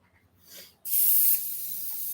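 A close, loud airbrush hiss bursts on, then thins to a weaker, sputtering spray as it runs dry.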